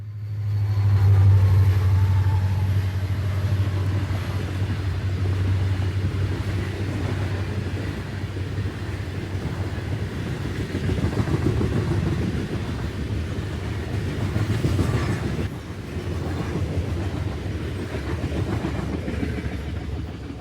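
A CSX locomotive, number 6201 and formerly B&O 4302, hauls an eastbound coal train, with a deep steady engine drone and a continuous rumble of rolling cars, loud and sustained throughout.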